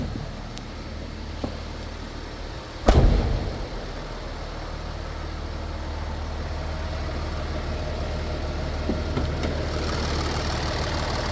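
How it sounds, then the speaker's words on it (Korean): A 2017 Kia Mohave SUV engine idling at a steady low rumble, close and continuous, with one sharp thump partway through and no talking. "엔진 소리도 무척 좋고요"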